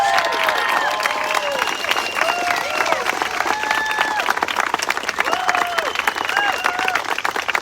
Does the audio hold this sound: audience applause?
yes